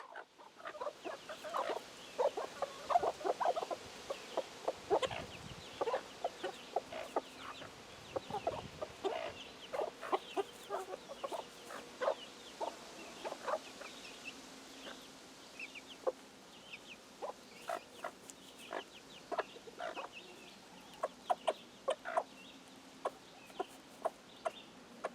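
Hens and a rooster named Handsome cluck and call steadily, a flock of short, busy vocalizations at close to middle distance that carries on throughout.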